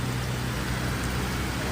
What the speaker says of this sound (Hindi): ये देखो बारिश हो रही है और वो भी बहुत तेज़ बारिश।